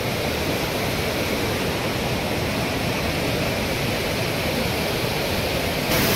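Kalu waterfall in monsoon pours in a dense, unbroken roar of falling water, loud and close, with a steady hiss across the whole span and no voices.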